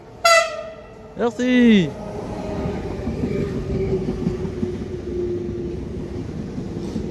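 A Z2N electric multiple-unit train pulls into a station platform. A sharp horn blast comes first, then a falling whine and a steady rumble of wheels and motors as it rolls in. A voice speaks briefly near the start.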